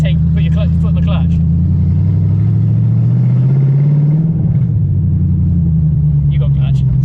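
A BMW E36 car, back on the road after years off, rolls forward in gear with a steady low engine rumble and a slight rise in pitch, voices talking over it.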